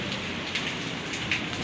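Steady rain pours during a strong windstorm, a close, dense hiss of drops striking surfaces with a couple of brief louder splashes and no talking.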